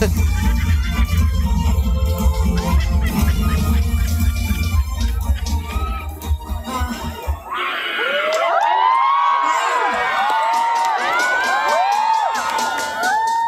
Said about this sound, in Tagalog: Pabayaan mo na sumigaw ang tao.